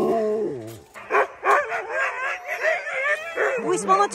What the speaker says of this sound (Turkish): Şu an köpekleri salıyorlar.